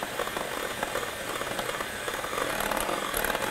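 Food processor grinding nuts into a fine butter: a steady, loud, buzzing motor whir with a rough grinding texture, continuous and close throughout.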